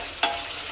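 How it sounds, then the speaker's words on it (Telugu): A ladle stirs tomato rice frying in a pan, giving one short scraping stir over a steady close sizzle. "అంతా ఒకసారి మళ్ళీ గరిటెతో కలుపుకుంటున్నాను."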